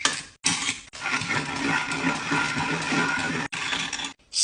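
An electric pencil sharpener grinds a pencil in a loud, close mechanical whir, running in several bursts separated by brief silent gaps.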